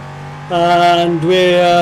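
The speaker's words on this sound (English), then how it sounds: "This is Bathurst on iRacing in the LMP3." An LMP3 race car in the iRacing game at Bathurst hums at low steady engine pitch, then rises into a louder, higher rev with a brief gear-change dip, close and alone.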